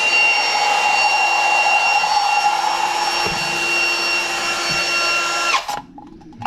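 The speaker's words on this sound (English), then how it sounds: "get a piece of vacuum hose, connect it to the valve, and connect it to the drill" Power drill spinning an engine valve through a vacuum hose during a Mk3 Toyota Supra turbo cylinder head rebuild, a loud steady whine for several seconds that abruptly stops, leaving quiet shop sounds.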